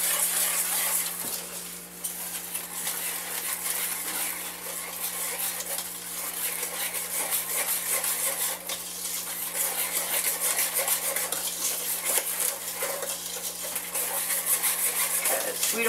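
A spoon stirs custard in a pot for banana pudding, making a continuous soft scraping and swishing that runs without pause over a low steady hum, close by.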